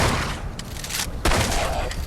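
A burst of gunfire in the video game Fallout 4: a rapid volley of shots runs throughout, dipping briefly before a loud renewed burst near the end.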